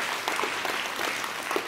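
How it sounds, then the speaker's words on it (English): A church congregation claps together at a Wednesday worship service, a dense steady burst of many hands lasting under two seconds with no voices over it. "can we give the Lord a hand clap for that?"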